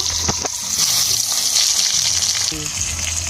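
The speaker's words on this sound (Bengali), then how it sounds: "এই ইলিশ মাছের তেলে আমি বেগুনটা একটু হালকা ভেজে নেব" Brinjal sizzling steadily in hot hilsa fish oil, a loud close crackle and hiss running throughout with a few soft clinks of utensils.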